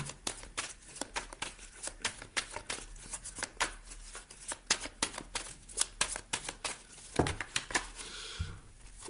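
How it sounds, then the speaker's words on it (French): Tarot cards are shuffled by hand, giving rapid rhythmic riffling flicks and soft slaps close up, in quick bursts without speech. "Je vais rajouter des cartes."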